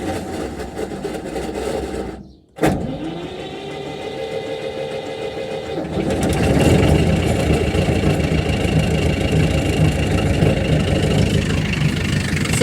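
A potato planter rig's engine idles, cuts out briefly, then cranks and catches, settling into a steady, close mechanical idle that grows louder and rougher partway through.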